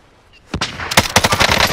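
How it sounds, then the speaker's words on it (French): Gunfire in the video game Call of Duty Warzone starts abruptly with a loud single shot, then turns into a rapid automatic burst of close, loud shots. "Il me tire dessus"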